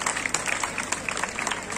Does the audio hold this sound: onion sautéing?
no